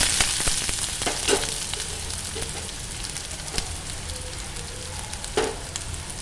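Steady crackling sizzle of finely chopped onions frying in hot oil, with occasional stirring scrapes and clinks from a utensil against the pan.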